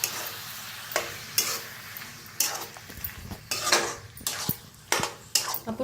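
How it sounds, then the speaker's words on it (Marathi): Masala paste being stirred and roasted in oil in a pan for a cauliflower dish, with repeated scraping and clinking of a spoon against the metal over a faint steady sizzle, close and alone without voices. "तर छान मिक्स करून भाजून घेऊया"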